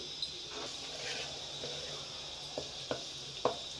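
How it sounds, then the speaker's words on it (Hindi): Whole spices (red chilli, cinnamon, cloves and white cumin) frying in hot oil for dhaba-style keema, a faint steady sizzle with a few soft clinks and stirring knocks toward the end. "तो अब मैं इसमें जो हमारे साबुत मसाले हैं वो मैं इसमें डालूँगी, और ये मैं डाल रही हूँ इसमें लाल मिर्च और दालचीनी, लौंग, और ये सफ़ेद ज़ीरा"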